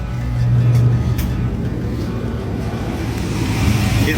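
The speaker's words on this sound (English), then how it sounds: "Combustion motor is running." Furnace combustion motor starting up: a steady, loud low-pitched mechanical hum and rumble that holds evenly throughout, with a slight rise near the end and no talking.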